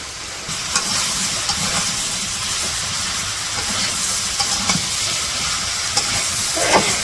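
Vegetables are added to a curry frying in a village kitchen, giving a loud, steady hissing sizzle with occasional stirring knocks and scrapes over about seven seconds, and no one speaks.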